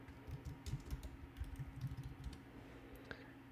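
Quick bursts of keystrokes tap on a computer keyboard during video editing work, light clicks coming in short uneven runs before trailing off into quiet room tone.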